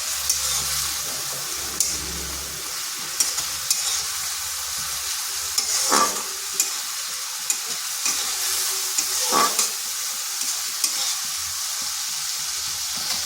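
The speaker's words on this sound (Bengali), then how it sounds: "মশলাটা একটু কষে নিচ্ছি।" Spices sizzle and fry in a pan (cumin, coriander and Kashmiri chili powder) for a red lentil and bottle gourd curry, with a steady hiss and occasional stirring scrapes, close and continuous, no talking.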